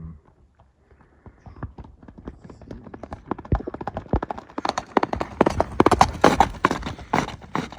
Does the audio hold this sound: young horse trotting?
yes